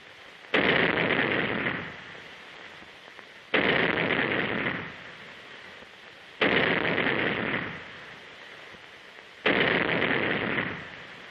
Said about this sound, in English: The cadets demonstrate their proficiency by firing the 3-inch gun in record time.